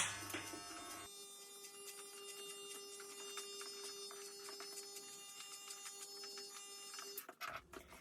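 Electric hair clippers hum steadily at close range while blending a gents' haircut, with the lever flipped to a 2.5 setting; a continuous buzzing drone runs for several seconds and cuts off near the end.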